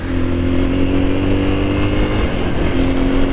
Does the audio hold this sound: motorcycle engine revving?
yes